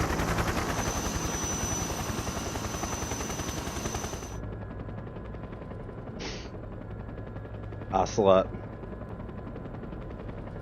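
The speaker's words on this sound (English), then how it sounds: "There's a lot of wind on the helicopter" A helicopter in the video game Metal Gear Solid 3 Snake Eater gives off dense rotor roar and wind rush that cuts off abruptly, leaving a low hum with a few short bursts and a brief spoken line.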